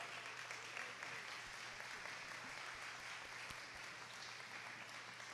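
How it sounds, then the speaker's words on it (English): A town hall audience claps steadily for a councilwoman at a community meeting on gun violence; a dense, even wash of applause fills the room without letup. "Please give a round of applause for Councilwoman Burke."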